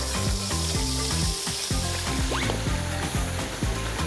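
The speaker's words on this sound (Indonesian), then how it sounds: "emak tumis semua bumbunya di minyak panas" Spices sizzle and crackle steadily in hot oil in a home-style Indonesian kitchen. The frying is close and continuous, with scraping stir sounds mixed in and no talking.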